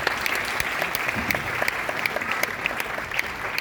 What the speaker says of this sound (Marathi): टाळ्या वाजवत राहावे.